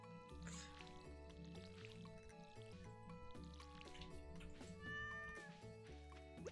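A cat meows inside the Stardew Valley farming game, heard clearly over steady, layered background music for the whole stretch.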